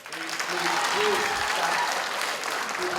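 At a township electors' annual meeting, an audience claps in a dense, sustained burst that fills the room, while a voice speaks briefly over it.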